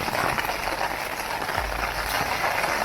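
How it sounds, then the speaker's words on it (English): Steady heavy rain patters and drums on a nearby tent in a dense, continuous hiss, with no voices, in the Alps. "Raining pretty bad now."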